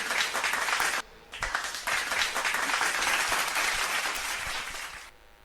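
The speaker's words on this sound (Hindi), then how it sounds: "इनके लिए ताली दीजिए।" Audience at a Jain religious quiz event applauds steadily, a dense wash of clapping that briefly dips and then swells again before stopping near the end.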